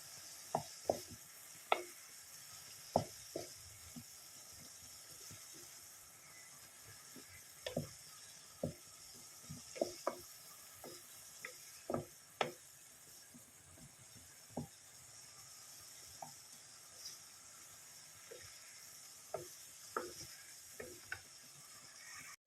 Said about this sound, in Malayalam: ഒരു മൂന്നാല് പച്ചമുളക് ഇട്ട് കൊടുക്കാം പിന്നെ ഇഞ്ചി വെളുത്തുള്ളി പേസ്റ്റും കൂടെ ഇട്ട് കൊടുക്കാം ഇതെല്ലാം ഒന്ന് നല്ലതുപോലെ ഒന്ന് വഴറ്റിയെടുക്കാം